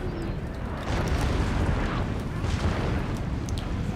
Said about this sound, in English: His artillery is opening up pretty good on me